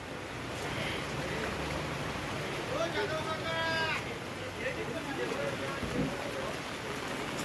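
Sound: heavy rain at an outdoor market

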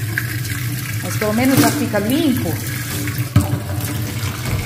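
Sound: water splashing while rinsing a bathroom

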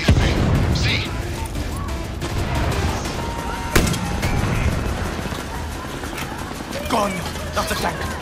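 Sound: tank firing in video game Far Cry 6

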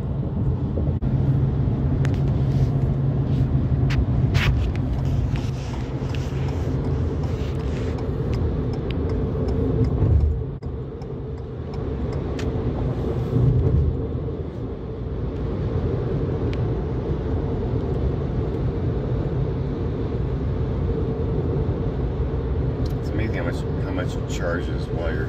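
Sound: Ford Maverick hybrid car driving at night on highway

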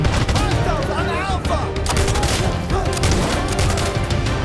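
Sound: gunfire in the video game Insurgency: Sandstorm

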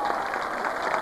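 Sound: audience applause at folkrace event

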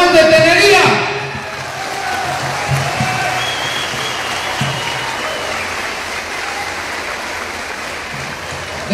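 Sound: applause

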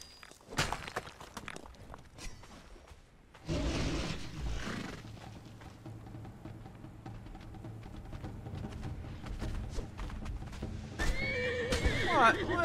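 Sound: horse neighing and hooves in video game Conan Exiles

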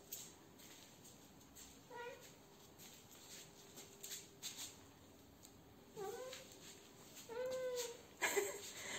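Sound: cat meowing

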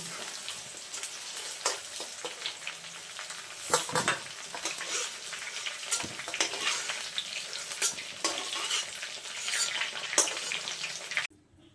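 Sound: pointed gourd (potol) lightly frying in oil

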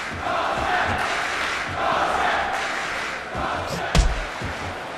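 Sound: crowd cheering at MMA fight

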